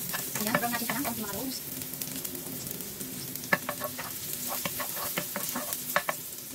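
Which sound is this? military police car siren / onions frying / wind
onions frying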